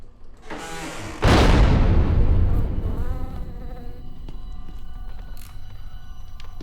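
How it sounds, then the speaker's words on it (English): A loud, dense buzzing of bees swells suddenly and fills the air close by, then slowly thins out into a quieter hum. "Bees! Bees, man, bees!"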